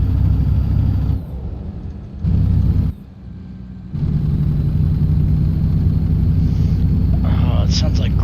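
A heavy truck engine in the video game American Truck Simulator rumbles low and rough with a gravel-like rattling edge, cutting out briefly twice before droning on steadily.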